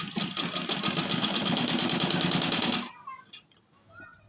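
A sewing machine stitches along a dress neckline in a fast, steady run of close mechanical clatter for nearly three seconds, then stops, leaving faint small handling sounds.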